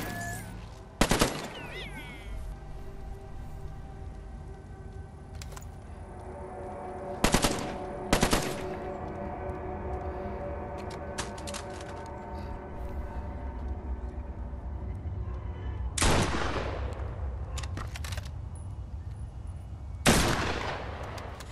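Rapid bursts of automatic gunfire from weapons in the VR shooter Killing Floor: Incursion, several loud volleys separated by a lingering mechanical hum, with a faint voice in between.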